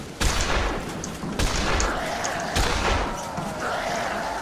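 Repeated gunfire bursts in the zombie game Dead Island, loud and close, with several sharp shots and thuds spread over a few seconds amid busy game noise.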